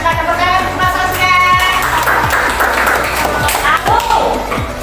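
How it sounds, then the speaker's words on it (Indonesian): A classroom of pupils clapping for a classmate, rhythmic hand claps mixed with children's voices and chatter, close and fairly loud, with spoken talk over the clapping. "Tepuk tangan untuk Mas Angka"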